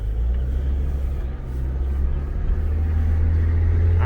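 A Saab 9-3 Sport Combi wagon's 2.0 turbo four-cylinder engine runs smoothly while driving, a steady low rumbling drone heard from inside the cabin with no talk.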